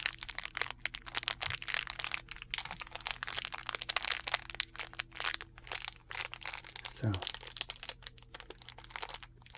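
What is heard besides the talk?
buttons crinkling in long skinny plastic bag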